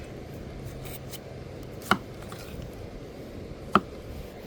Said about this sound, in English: Get all the seeds out of them. And slice them up.